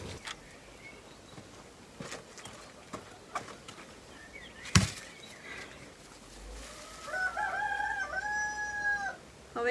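A rooster crows near the end, preceded by scattered clucks and rustling from chickens in a yard, with no talking.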